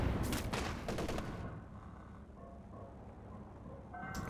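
Grenade explosions and gunfire trade back and forth in a tank battle video game, starting with a loud cluster of bursts that quickly drop away into a low rumble before another burst at the end.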